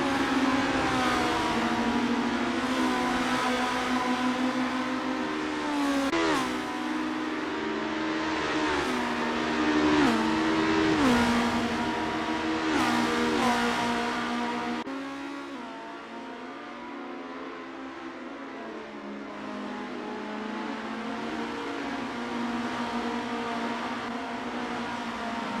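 Race cars in the Assetto Corsa game roar around a Las Vegas circuit, engines droning loud and steady with rising and falling revs and brief gear shifts, and a quieter stretch near the end.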